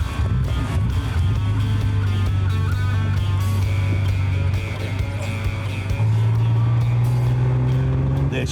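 A car engine pulls steadily and accelerates during a ride, heard from inside the vehicle as a loud continuous drone that climbs in pitch, shifts around six seconds, then keeps rising, with people talking over it.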